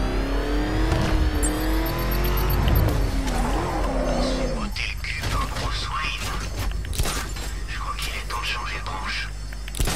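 Batmobile driving in Batman: Arkham Knight, a loud, steady engine roar with mechanical clanks, creaks and revving surges that sharpen into harsher bursts toward the end, heard under voices.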